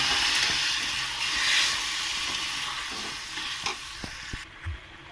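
Snakehead fish curry in a pan hisses and sizzles after a little water is poured in, a broad steamy wash with a few soft knocks of stirring toward the end.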